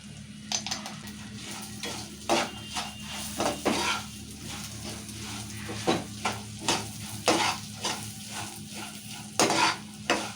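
A spiced poha chivda snack mix of fried peanuts, curry leaves, roasted gram and chillies with turmeric and salt, stirred in a pan: repeated rhythmic scrapes and rattles of dry pieces over a soft background sizzle, close by.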